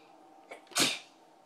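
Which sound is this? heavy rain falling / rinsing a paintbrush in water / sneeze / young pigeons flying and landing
sneeze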